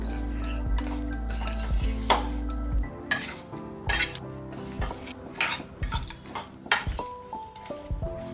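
Cooked rice is stirred into a sizzling tempering in a pan, with repeated metal clinks and scrapes of a spoon against the pan over a faint sizzle, close and irregular.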